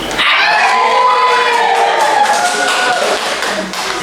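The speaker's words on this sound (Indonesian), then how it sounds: "kita beri aplaus" Audience applause at a classroom pantun session, a loud, steady wash of clapping and cheering voices filling several seconds before tapering slightly at the end.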